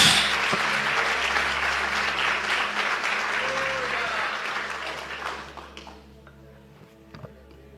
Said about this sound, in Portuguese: bata suas palmas fortes